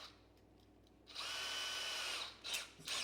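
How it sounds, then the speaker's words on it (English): Small drill fitted with a 1/8 inch bit boring a pilot hole while installing a fish-finder visor, a close whirring burst of about a second and a half followed by two short spurts. "So I'm going to drill a small hole here"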